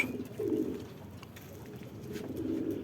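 A racing pigeon named Kobe coos softly as it comes down to land, two low throaty coo phrases a couple of seconds apart against a quiet outdoor background.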